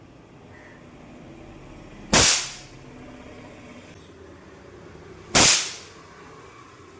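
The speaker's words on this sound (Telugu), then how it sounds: "ఇవి మినీ సైజ్ థ్రెడ్ బాంబ్స్ అండి. జస్ట్ థ్రెడ్ పుల్ చేస్తే చాలు బ్లాస్ట్ అవుతాయి." Two mini thread-bomb firecrackers, set off by pulling a thread, burst about three seconds apart, each a sharp loud crack with a brief ringing tail over quiet outdoor background.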